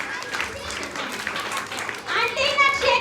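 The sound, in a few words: audience clapping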